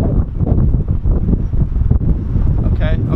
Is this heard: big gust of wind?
yes